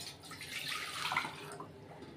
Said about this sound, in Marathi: मी इथे एक पातेलं ठेवले आणि त्याच्यामध्ये 1 वाटीच्या मापानं पाणी घालते।